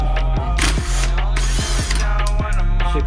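Ratcheting tool tightening the inner tie rod on a Nissan 350z, loud close mechanical clicks and creaks repeating in a steady rhythm over a constant low hum.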